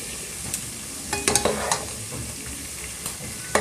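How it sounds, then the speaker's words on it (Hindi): Peas and potatoes fry in a pan, giving a steady close sizzle. Sharp clinks and scrapes of stirring punctuate it now and then, and no one speaks. "पाँच छः मिनट में इसको फ्राई कर लेंगे आलू डालने के बाद"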